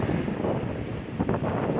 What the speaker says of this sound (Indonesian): Tuh ombaknya kencang sekali nih.